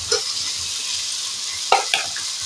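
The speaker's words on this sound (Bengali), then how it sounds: "কষিয়ে রাখা আলুটা আমি এতে দিয়ে দিলাম" Potatoes drop into a sizzling tomato masala for a bitter gourd and potato curry. A constant close frying hiss carries a few light clacks of a spoon stirring the pan.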